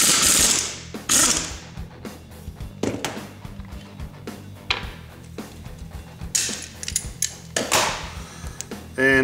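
Removing the pinion gear coupler nut on a Honda TRX300 final drive with vise grips clamped on the coupler, heard as a series of sharp metallic clicks, ratcheting and clanks in uneven bursts, close by in a shop.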